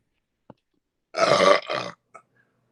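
A single loud, drawn-out burp in two gurgling parts, close up, with a couple of small clicks before and after in otherwise quiet surroundings.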